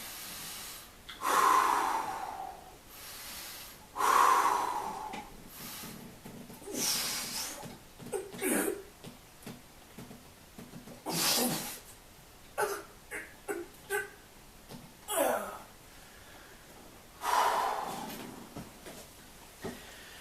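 Heavy, deliberate breaths drawn in and pushed out before a deadlift shrug, about six or seven loud, close breathy bursts spaced a couple of seconds apart, with no talk.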